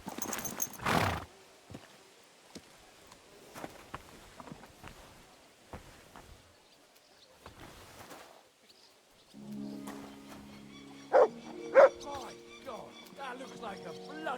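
A horse in the video game Kingdom Come Deliverance 2 clops its hooves in scattered steps, then gives a couple of sharp whinnies over a low, droning background, with voices talking in between.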